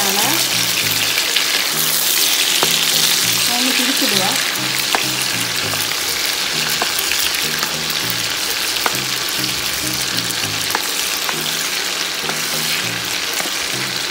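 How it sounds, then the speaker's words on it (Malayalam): Chicken frying in oil for a fried chicken biryani, a steady loud sizzle with crackling throughout, with low background music beneath. "Chicken fry ചെയ്യാനിടാം."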